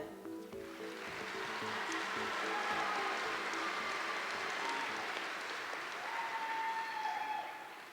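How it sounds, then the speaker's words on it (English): Sustained audience applause fills a dairy cattle show hall during a champion ceremony, a dense even roar of clapping that swells and holds for several seconds before tapering at the end. "How about one more big round of applause for all of these champions?"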